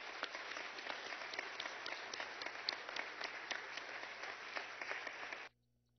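Sustained applause fills a session of Venezuela's National Assembly, a dense even patter of many hands clapping for about five seconds before stopping abruptly, with no talk over it.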